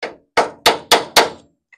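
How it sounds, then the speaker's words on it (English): A small hammer taps on a brake cable part on a 1949 Volkswagen Beetle, five sharp metallic strikes in quick, slightly uneven succession, close and loud, followed by a faint tick. "You bring a little hammer."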